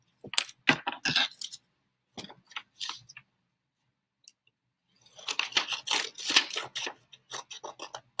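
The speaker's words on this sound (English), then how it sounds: "I'm going to cut this line all the way up to the middle." Scissors snipping through paper while cutting a diorama panel, several quick crisp rasping cuts in two bursts with a quiet gap between, close and alone.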